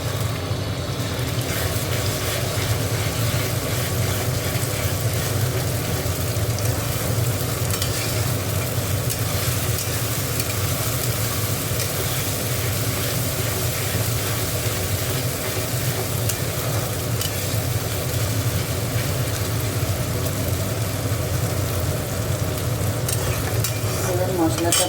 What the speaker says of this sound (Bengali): মশলাটা ভালো করে একটু কষে নেবো।